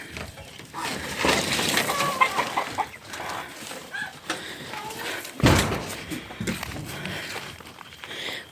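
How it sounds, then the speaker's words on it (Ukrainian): Chickens cluck and murmur nearby in a yard with an apple tree they climb to roost, with a sharp knock or thud midway and some soft rustling in between. "Кури залозять аж на яблуню, ночувати."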